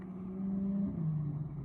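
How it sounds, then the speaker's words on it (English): A BMW car engine drones steadily, its low tone rising and then shifting downward as it passes by at moderate distance, with no talking over it. "I think that's a BMW, bro. That just sounds like it."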